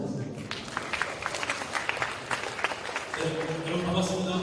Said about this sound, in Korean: 함께 박수로 맞이하겠습니다.